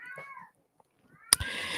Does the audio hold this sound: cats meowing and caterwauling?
yes